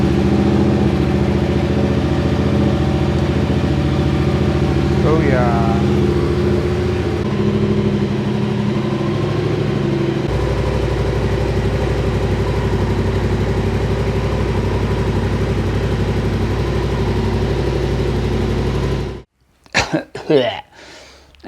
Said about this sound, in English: I'm going to fire the bike up, make sure these damn things still work.